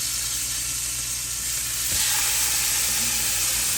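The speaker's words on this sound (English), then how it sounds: "I am going to put it on this hot baking sheet." Brined chicken pieces searing on a hot baking sheet, a loud, dense sizzle that swells as more meat lands, with no talk.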